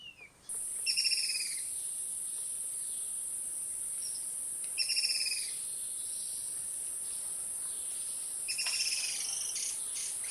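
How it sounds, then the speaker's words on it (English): A small flock of five or six hairy-backed bulbuls in the Thai wild gives three short bursts of bright, chattering calls, moderately close, over a steady high-pitched insect drone. "A little flock of 5 or 6 hairy back baubles."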